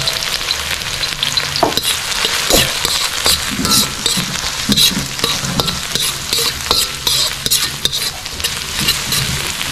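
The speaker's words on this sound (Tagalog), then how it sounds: "Sindarin natin ang bawang." Garlic and onion sauté in an oiled pan before pork ribs go in, a steady close sizzle and frying crackle over nearly ten seconds, with scattered stirring scrapes and light clinks of a utensil against the pan.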